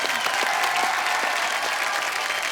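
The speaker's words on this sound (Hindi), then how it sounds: "एक बार जोरदार तालियां।" Studio audience on a television comedy show breaking into a burst of loud, sustained applause, dense rapid clapping from many people held at a steady level throughout.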